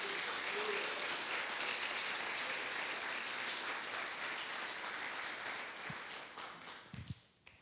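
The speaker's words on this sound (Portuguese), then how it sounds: "Quem reconhece isso, diga graças a Deus e aplauda o nome do Senhor Jesus." A church congregation claps together in sustained, fairly distant applause that holds steady before thinning out and stopping near the end, with a few close knocks as it fades.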